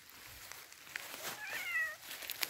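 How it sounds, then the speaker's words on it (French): A cat outdoors near a forest gives a soft, drawn-out meow, faint and somewhat distant against quiet background noise, with no talking. "Ah, il n'obéit pas ce chat."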